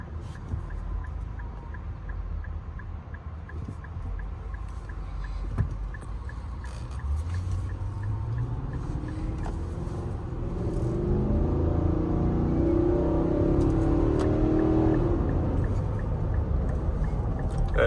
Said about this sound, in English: That engine sounds so good.